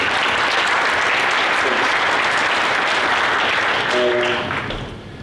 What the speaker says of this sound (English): give a round of applause to our sponsors